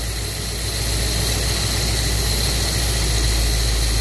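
A car engine fitted with a Holley carburetor idles steadily after idle mixture and speed adjustment, a loud, even, close rumble with constant vibration and no talk.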